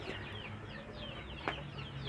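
Day-old native kampung chicks in a cardboard box give a steady run of small, high chirps and peeps, close and moderately loud, with a brief sharper call near the end and no talking.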